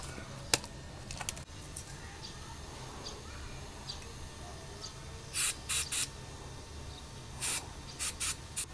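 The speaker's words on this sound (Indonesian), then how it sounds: "Terus kita semprot pakai" Short hissing bursts of spray hit a Tamiya Mini 4WD motor, in this case an Atomic-Tuned 2 Motor Pro, during break-in, coming in two quick groups of three against quiet background with faint clicks and no speech.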